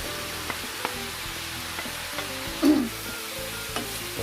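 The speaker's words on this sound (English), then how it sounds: "Now we're going to add the mangetout." Mangetout stir-fried in a pan for Pinoy noodles, giving a steady close sizzle with intermittent scrapes and clicks of stirring and one louder clatter partway through.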